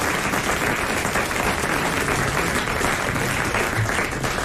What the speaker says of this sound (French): deux bonnes réponses et nous applaudissons Isabelle Mergaux et Évelyne Leclerc.